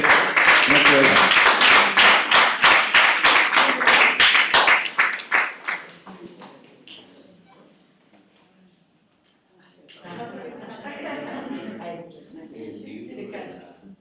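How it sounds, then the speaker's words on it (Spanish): Audience at a university humanities faculty anniversary ceremony claps loudly for about five seconds, the applause thinning out and fading, followed by quieter murmuring and voices. "Le damos un fuerte aplauso a nuestra invitada que recibe un obsequio de parte de nuestro decano."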